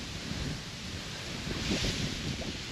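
Choppy sea waves washing and surging, a broad continuous roar with a swell building midway, mixed with heavy wind buffeting the microphone.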